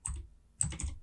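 A few quick keystrokes on a computer keyboard, close and clear clicks in two short bursts separated by a brief pause, with no speech.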